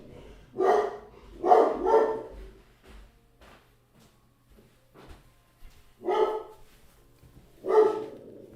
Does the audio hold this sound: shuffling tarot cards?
no